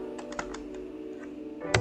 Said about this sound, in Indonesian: Anda langsung ketik di sini, ketik enter aja